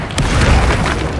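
A Confringo fire spell bursts in the Hogwarts Legacy video game, a loud, dense blast with a sharp onset that rumbles and crackles for just over a second without fading.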